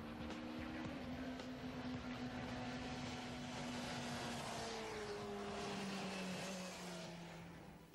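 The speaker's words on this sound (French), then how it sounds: "Quand on tourne l'accélérateur d'une MV Agusta, ça produit un son vraiment unique." An MV Agusta motorcycle engine revs as the throttle is turned, a sustained droning roar with gliding pitch that rises and sinks, fairly distant and steady throughout.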